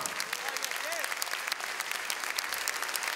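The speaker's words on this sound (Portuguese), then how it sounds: "Então vamos aplaudir ao nome do Senhor" Church congregation clapping in praise of the Lord, a dense, steady wash of hands from a moderately distant crowd, with a voice briefly rising over the applause.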